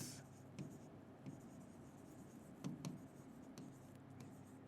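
Pen writing notes by hand during a physics lesson, a soft continuous scratching with a few sharper taps and strokes, close and quiet with no talk over it.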